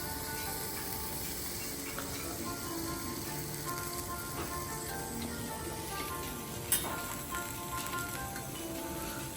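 Pieces of expensive beef steak sizzle on a grill at a restaurant in Japan: a steady, moderate hiss with fine crackle and one brief click, with no talking over it.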